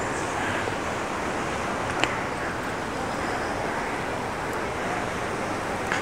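Water rushes down Mayang Falls in Barangay Conchu, Trece Martires, Cavite, a steady broadband roar that holds unbroken throughout, with no talk over it.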